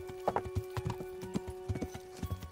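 Horse hooves clip-clop steadily along a forest path in Kingdom Come: Deliverance, a rhythmic trot of close, distinct hoofbeats with a faint steady hum beneath and no talk.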